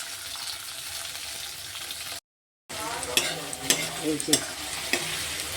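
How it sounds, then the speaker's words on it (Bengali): Tomato and chopped onion frying together in ghee, a constant crackling sizzle broken by a short silent gap, then louder stirring scrapes and spatula knocks; a voice speaks briefly. "দেখো পেঁয়াজটার সাথে টমেটোটা সুন্দর মাখা ভাজা হয়ে গেছে"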